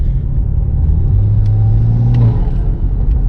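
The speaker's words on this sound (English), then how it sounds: "I hear the air actually getting sucked in" Inside a BMW M340i with a B58 engine and MST intake, a deep engine rumble holds steady as air is drawn in, rising into a brief throaty surge before settling.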